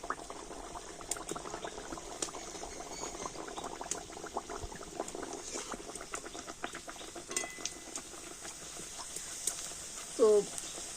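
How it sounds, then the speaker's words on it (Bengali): Puris dropped one at a time into well-heated oil for a snack recipe, giving a steady bubbling sizzle of deep-frying throughout, with a brief louder burst near the end. "এবার আমি একটা একটা করে পুরি নিয়ে তেলের মধ্যে দিয়ে দেব"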